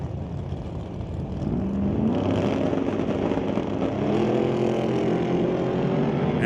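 A hot rod drag race car, a Ford Model A, tearing down the track with the front wheels lifted, a loud, rough engine roar building and holding steady at a distance, with no talking.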